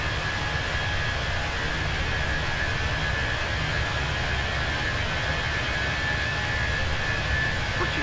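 A JetBlue jet airliner climbing out of JFK toward Bermuda gives off a steady, unbroken engine roar with a broad hiss, even and constant throughout.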